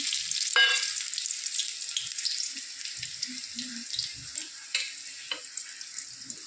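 Finely chopped onions fry in a hot pan with a steady, close sizzle and hiss, broken by a few sharp clinks and scrapes of stirring throughout.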